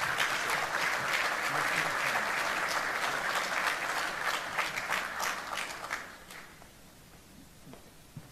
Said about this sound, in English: Let's give them a round of applause as they come.